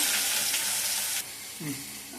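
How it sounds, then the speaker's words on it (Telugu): Large onions, thinly chopped, fry in a pan with a close, bright sizzle that eases slightly partway through, as if stirred, during a short burst. "ఇలా ఆనియన్స్ ఫ్రై చేసుకుంటా ఉన్నప్పుడు"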